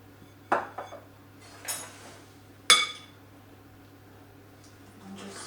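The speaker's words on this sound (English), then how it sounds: "just give it all a jolly good mix up" Cake batter with cinnamon being mixed in a bowl for a vegan banana cake: a few scattered clinks and scrapes of a utensil against the bowl, sparse and fairly quiet, with stillness between.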